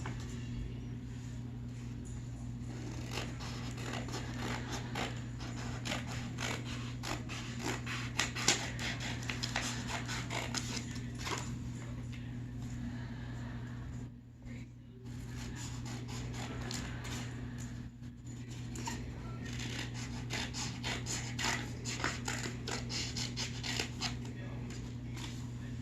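Scissors cut printed paper math cards, a steady run of soft snipping and rubbing strokes over a constant low hum, with a short pause midway.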